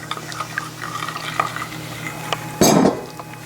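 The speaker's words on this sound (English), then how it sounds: "So you can see we just mix this now to the mixture we've got." A spoon stirs vegan cheese mixture in a bowl, with soft scraping clinks followed by a brief louder swirl near the end.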